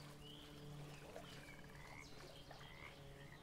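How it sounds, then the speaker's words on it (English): A frog croaks in the Bramble: The Mountain King game world, soft chirping calls over a quiet ambient drone with faint bird-like trills. "Hey, Mr. Frog."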